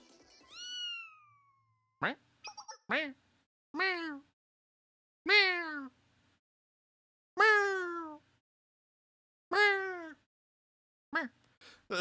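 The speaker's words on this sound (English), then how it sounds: "Someone's screaming? No, that's a cat." A cat in the game Blue Archive meows repeatedly: a long drawn-out cry, then about six shorter, sharply falling meows spaced a second or so apart, loud and close, with silence between them.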